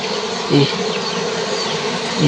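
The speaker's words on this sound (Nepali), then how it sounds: "मौरी पनि यहीँ रहेछ नि" A bee buzzes close by in a steady, continuous drone, swelling louder twice as it passes near, with no talking over it.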